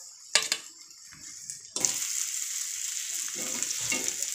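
Boiled potatoes mixed with spices in a frying pan: a few sharp spatula knocks, then a steady close sizzle, with more scraping strokes near the end.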